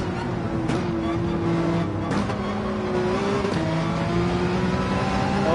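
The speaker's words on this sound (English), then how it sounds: "I will never forget the sound of that. Ferrari." A Ferrari race car engine in Gran Turismo 7 holds a steady, buzzing drone that climbs and dips with the revs, and other cars and brief bursts of tire noise mix in close by.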